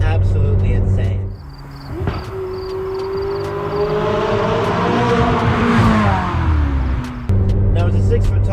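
A McLaren 600LT supercar with hood exit exhaust pipes revs loudly up close. Its engine tone climbs and then falls over a few seconds, with rumbling idle on either side.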